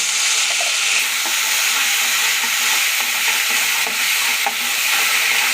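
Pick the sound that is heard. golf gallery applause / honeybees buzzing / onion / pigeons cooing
onion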